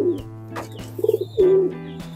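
Domestic pigeons in a hot loft coo in short throaty bursts, one soft rolling call followed by a longer, louder one, close by over a steady background hum, with no talk.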